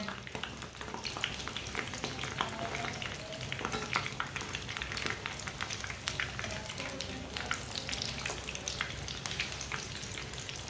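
Vegetable shami kebabs fry in a pan with continuous crackling and popping oil, a busy, even sizzle close by.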